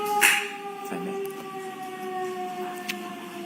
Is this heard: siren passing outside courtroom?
yes